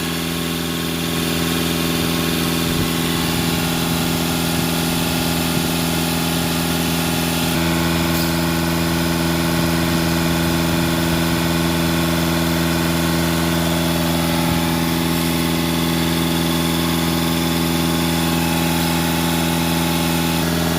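An Audi A4 engine runs steadily at elevated revs during DPF cleaning, a constant droning hum with vibration, holding level throughout with no talking.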